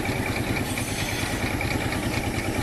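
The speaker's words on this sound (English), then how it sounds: "Powered by the traction engine here." A steam traction engine drives a belt-linked saw at an outdoor country show, making a steady, close, rhythmic mechanical chugging with a constant clattering texture and no voices.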